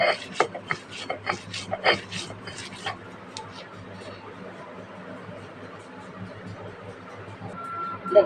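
Fried yardlong beans and dried fish ground by hand on a stone slab, giving rough scraping and rubbing strokes with a few sharper knocks early on, then a steadier low grinding, close up and fairly quiet.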